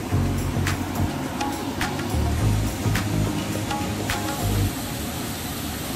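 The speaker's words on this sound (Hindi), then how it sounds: "बहुत मस्त झरना, बहुत सॉलिड लग रहा है" Roaring rush of the Ulung waterfall, a broad steady wash of falling water, loud and continuous throughout with low rumbling surges.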